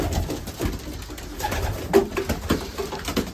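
Racing pigeons coo in a loft among the male birds, soft throaty calls recurring irregularly and fairly close, with faint rustling and shuffling around them.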